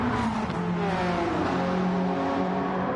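Early-2000s sports race cars, including a Viper, Impreza, Evo, Corvette and 911, lap the Nürburgring in Gran Turismo 7; a pack of engines drones and revs steadily at close range, layered and continuous, with no talk.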